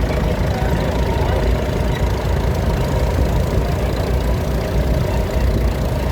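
A 1967 Nuffield 465 vintage tractor engine running steadily in a parade at a steam rally, a continuous low rumbling idle that stays even and fairly close throughout.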